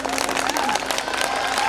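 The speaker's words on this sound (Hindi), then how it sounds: "एक बार पूरा सदन तालियां बजा दीजिए।" An audience claps at a Holi comedy poetry gathering, a dense burst of applause with some crowd noise mixed in, loud and sustained through the whole moment.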